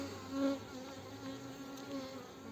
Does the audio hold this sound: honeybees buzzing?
yes